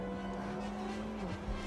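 A fast car in the video game Watch Dogs: Legion drives with a steady, loud engine drone, a faint tire squeal at the end, and no talking.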